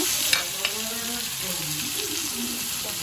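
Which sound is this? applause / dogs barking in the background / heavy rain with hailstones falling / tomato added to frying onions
tomato added to frying onions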